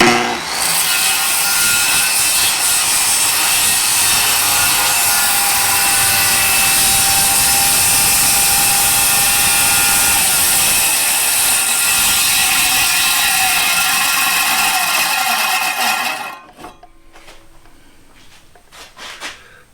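A jigsaw saws through wood, finishing an angled plunge cut, a loud continuous rasping buzz for about sixteen seconds that stops abruptly, followed by a few faint clicks.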